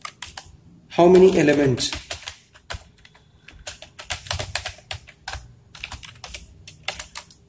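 Close, brisk typing on a computer keyboard while writing a C++ binary search program, with rapid clusters of key clicks in uneven bursts and someone speaking over part of it.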